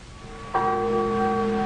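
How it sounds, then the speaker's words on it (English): A single church bell strikes once and rings on with a clear, sustained tone that slowly hums, heard alone and fairly close. "They hadn't thought of the church bells."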